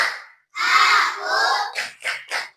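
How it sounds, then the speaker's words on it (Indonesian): A class of children doing a rhythmic concentration clap with their teacher, shouting a chant together in unison and finishing with a few quick clustered claps, close and loud. "Yuk bersama-sama tepuk konsentrasi."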